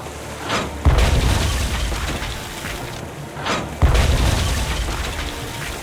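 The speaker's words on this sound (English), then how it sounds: "Then empty the cannons on him, me hearties!" Ship cannons in the pirate video game Tales of Monkey Island firing two heavy booms a few seconds apart, each a loud, deep blast that rolls into a long rumbling decay, with no voices.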